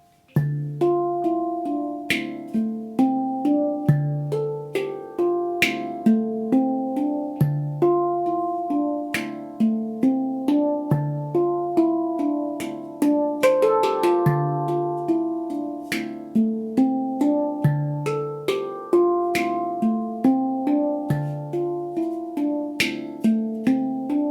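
A handpan plays a steady, looping melody of ringing metallic tones, struck notes rising and falling in an even rhythm, close and clear.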